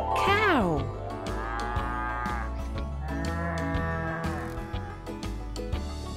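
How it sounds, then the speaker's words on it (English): A cow moos in several long, drawn-out calls from close by, each one loud and rising before it settles into a steady low tone, with no talking. "Small horns and a sound that goes moo."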